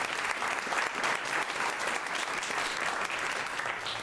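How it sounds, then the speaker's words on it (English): An audience at a Sunday music event with the Friends of the Arts breaks into steady, full applause, a dense wash of clapping that holds evenly throughout. "He needs a huge round of applause"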